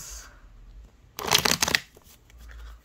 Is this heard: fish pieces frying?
no